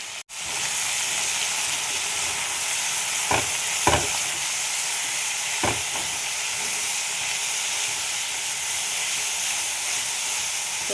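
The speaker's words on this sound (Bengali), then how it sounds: "এগুলো একবারে ভাজা ভাজা করে নেব।" Vegetables with sugar, turmeric and salt fry in a pan with a loud, continuous sizzle and a few brief scraping stirs.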